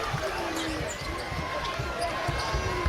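A basketball dribbled on the hardwood during a Boise State versus UNLV college game in 2023, with rapid bounces in the arena under continuous commentator talk and crowd noise.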